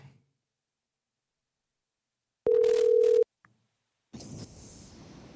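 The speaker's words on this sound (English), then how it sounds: "Let's have the ringtone go through." A steady electronic telephone tone sounds for under a second, followed after a pause by a faint click and then a hissy, buzzing phone line.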